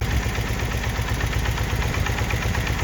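A BMW engine with carburetors being synchronized and tuned idles with a steady, close, pulsing low rumble at about 900 rpm, continuous and alone throughout.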